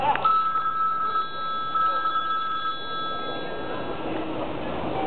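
A telephone rings while calling a phone number, two bursts of electronic trilling ring heard through a phone line with a faint background hum, recorded at low fidelity.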